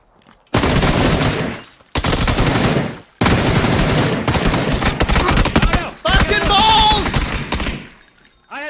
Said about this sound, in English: I had the peek on this guy and I shot as soon as I saw his face.